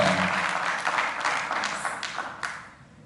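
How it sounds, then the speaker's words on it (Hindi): Audience applause at a television serial launch event, a burst of clapping from a crowd that is loud at first and gradually fades out over a few seconds. "एक बार जोरदार ताली।"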